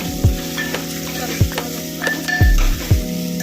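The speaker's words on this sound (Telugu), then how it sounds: "తర్వాత ఆనియన్, పచ్చిమిర్చి అండ్ వంకాయ ముక్కలు దోసకాయ ముక్కలు వేసేస్తున్నాను." Onion, green chili, brinjal and cucumber pieces sizzle in a hot pan with a constant frying hiss, punctuated by a few sharp clinks and knocks of a utensil against the pan.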